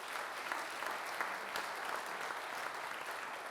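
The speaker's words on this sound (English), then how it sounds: "let's give her a big round of applause to make her feel welcome" A crowd gives a steady round of applause, a dense, even patter of many hands clapping at a moderate, slightly distant level throughout, with no voices over it.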